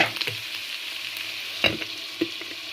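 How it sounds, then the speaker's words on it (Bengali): Banana frying and bubbling in a pot, a steady close sizzle with a few sharp stirring scrapes and taps, with nobody speaking. "আমি কলাটাকে একটু সিদ্ধ করে নিচ্ছি"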